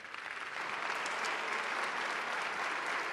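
A conference audience applauds the Secretary of Energy at an energy reform event, applause swelling quickly into a steady, fairly distant roar of many hands.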